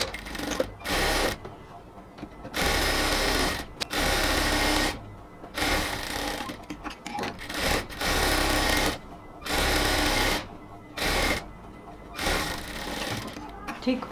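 Sewing machine stitching a seam on a luxury cotton salwar, running in repeated loud bursts of rapid stitching separated by short pauses, with a voice talking between and over the runs.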